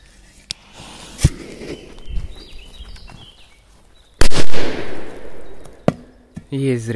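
A P-200 firecracker blasts under an overturned pot outdoors, one sharp, loud bang with a ringing metallic clang and rattle afterward, preceded by a few smaller knocks and rustles.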